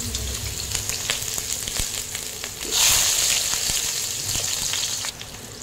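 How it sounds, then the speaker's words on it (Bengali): Lentil dumplings (bori) frying in oil, a steady close crackling sizzle that swells suddenly louder partway through, then settles back to a softer hiss. "এই অবস্থায় আমরা বড়িগুলোকে ভেজে নেব। তেলে ভেজে নেব।"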